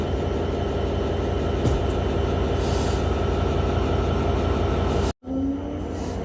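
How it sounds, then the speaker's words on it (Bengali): The Intercity Ruposhi Bangla Express pulls out of Muksudpur station bound for Benapole with a loud, continuous rumble of wheels and carriages heard from on board, broken by a brief drop in sound. "আমাদের ট্রেনটি এখন মুকসুদপুর রেল স্টেশন ছেড়ে যাচ্ছে"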